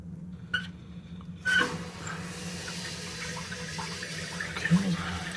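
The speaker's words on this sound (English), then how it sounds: "Filling up in the tank." Water filling a Kohler toilet tank after installation, a steady low hiss and trickle running continuously after a couple of brief clunks at the start, close by and moderately loud.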